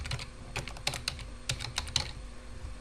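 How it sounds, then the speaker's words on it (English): Quick, light keystrokes on a computer keyboard while entering a title on a website, an irregular patter of close, quiet clicks with no talking. "Type in a title"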